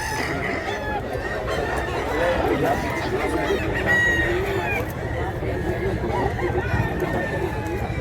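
Chickens and roosters crow and cluck continuously at a poultry market in Mantalungon, Cebu, a dense overlapping chorus of birds with crowd chatter and talk mixed in.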